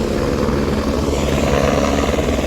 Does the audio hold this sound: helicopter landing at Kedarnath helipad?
yes